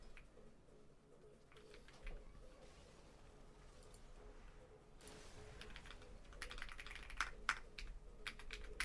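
A custom-built mechanical computer keyboard is typed on at a gaming desk, with quiet, steady clicky keystrokes that grow busier and louder toward the end, with no talking.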